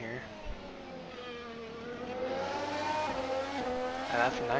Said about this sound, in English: And that's a nice car, a really nice McLaren there.